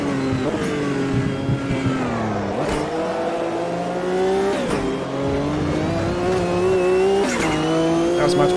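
Sportscar engine in the Automobilista 2 racing game revs and shifts continuously while the tires squeal and spin through corners, loud and close, with repeated rising and falling engine pitch.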